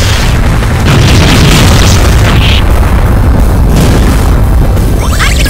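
An explosion attack from the video game Mana Khemia 2 produces a loud, continuous rumbling blast with crackling debris that fills the whole stretch without letting up.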